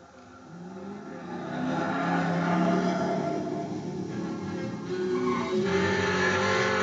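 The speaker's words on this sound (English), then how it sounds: "Our test car came with a standard 351 cubic inch V8, topped with a 2-barrel carburetor." A Mercury Cyclone GT with a 351 cubic inch V8 and 2-barrel carburetor drives along, its engine swelling after a second into a steady, full drone that holds with slight rises and dips.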